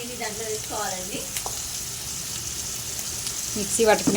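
Steady crackling sizzle of tomato chutney ingredients with curry leaves frying in a hot pan, with occasional stirring clinks and brief voices in the background.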